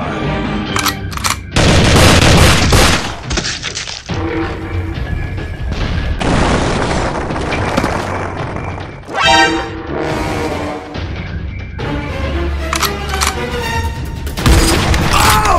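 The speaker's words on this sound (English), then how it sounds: "Shots fired!" Loud bursts of gunshots and machine-gun fire in a Spider-Man video game, arriving in choppy clusters separated by short gaps, with booming impacts and crashes mixed in.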